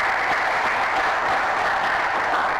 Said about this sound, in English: A round of applause once again